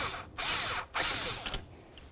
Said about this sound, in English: Just loosening up that clamp.